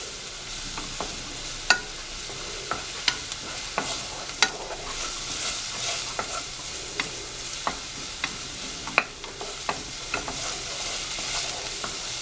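Garlic sweating in a pan gives off a continuous soft sizzle, with scattered crackles and the occasional louder click of a spoon or spatula over twelve seconds.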